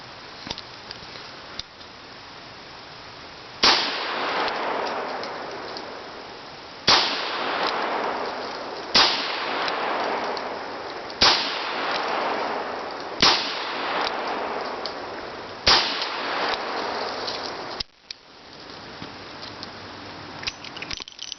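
A Smith and Wesson Model 10-5 revolver fires at a target, seven sharp loud shots spaced a second or two apart, each ringing out briefly, with no talking.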